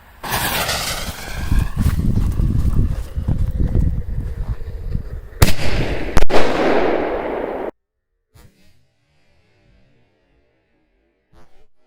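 Fireworks mortar shells launch at night in a rapid string of booming shots and crackling bursts, followed by a couple of sharp bangs, then near silence with faint distant pops.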